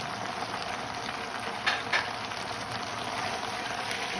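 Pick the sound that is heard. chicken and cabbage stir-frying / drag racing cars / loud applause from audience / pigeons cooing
chicken and cabbage stir-frying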